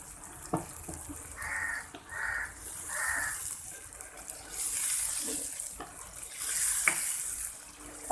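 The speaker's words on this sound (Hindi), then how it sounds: "अब मैं इसमें शामिल करूँगी तकरीबन 1 कप पानी।" Water is poured into chicken korma masala in a pan, giving soft splashing and sizzling bursts against a faint background, with crows cawing distantly outdoors.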